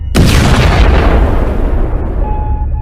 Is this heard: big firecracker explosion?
yes